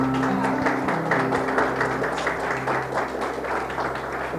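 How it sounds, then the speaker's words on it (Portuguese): Church congregation applauding during a worship service, dense steady clapping throughout over sustained music tones, with faint voices underneath. "Você pode aplaudir ao Senhor, querido?"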